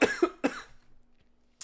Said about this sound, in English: all this screaming is making me cough